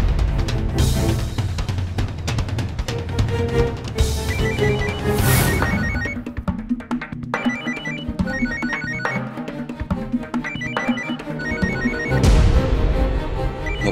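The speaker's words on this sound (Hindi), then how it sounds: "मोबाइल किसका बच रहा है? बंद करो इसे।" A mobile phone rings with a repeating electronic ringtone melody, loud and continuous throughout, over dramatic background music.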